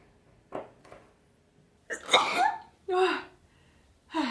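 A woman sneezes at home while mixing a DIY bath bomb kit, a sharp burst followed by a second sneeze-like exhalation, preceded by a couple of soft sounds, close and fairly loud with quiet room around.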